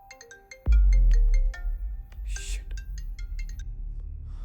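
A mobile phone ringtone plays a bright repeating melody late at night, joined by a sudden deep thump and low rumble, the tune continuing in quick plinking notes.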